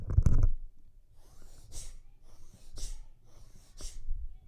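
After an opening burst of noise, three forceful nasal breaths of Bhastrika bellows breathing come at a steady pace, each a sharp hissing puff with quiet between.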